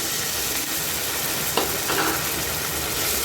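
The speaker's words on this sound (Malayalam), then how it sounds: "മുളക് പൊടിയുടെ പച്ചമണം മാറി വരുന്ന സമയത്ത് എടുത്തു വെച്ചിരിക്കുന്ന പുളിയും വെള്ളവും കൂടി ഒഴിച്ചു കൊടുക്കുന്നുണ്ട്" Tamarind water goes into a pan of frying chilli-powder masala, bringing a steady loud sizzle and hiss with a brief splashy burst partway through and no voices.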